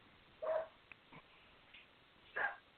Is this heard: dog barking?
yes